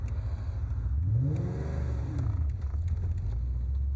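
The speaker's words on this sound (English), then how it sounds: "Listen to that exhaust. It is just amazing." A 1996 Ford Mustang Cobra convertible accelerates nearby, its exhaust rising in a strong, steady engine roar for a few seconds with no talking.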